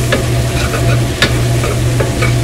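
Meat and onions with jalapenos frying in a hot pan for machaca, giving a loud continuous sizzle with a few sharp stirring scrapes, all close up.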